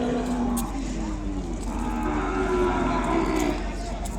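A calf moos loudly and continuously in a long, drawn-out low call, close by, over steady background noise at an Ongole cattle market.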